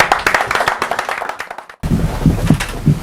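Audience clapping at a Paris press conference for a singer, a brief burst of scattered hand claps that cuts out abruptly and then resumes sparser and closer.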